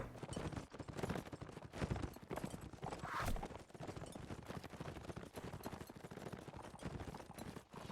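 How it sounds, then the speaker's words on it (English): Horse hooves clip-clop rapidly in a video game match, a dense continuous clatter of hoofbeats mixed with sharp gunfire-like cracks and game noise. "And Black Tide is on a black horse"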